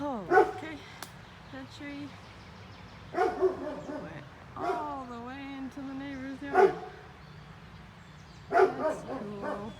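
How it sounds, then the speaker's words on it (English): A neighbour's dog barks and yips in short bursts from nearby yards while someone talks over it outdoors. "That's the neighbor's dog."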